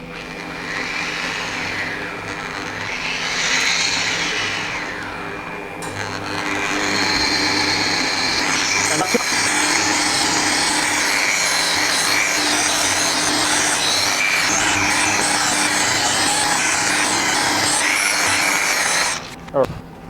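A rotary polisher with a hard foam pad and Xtra Cut compound whirs steadily on a car panel, rising in pitch early on and then holding an even drone before stopping near the end.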